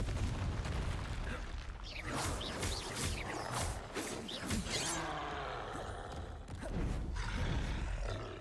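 A Confringo blasting curse explodes in Hogwarts Legacy: a dense, sustained roaring rumble with crackling bursts layered on top, steady and fairly full throughout rather than a single short bang.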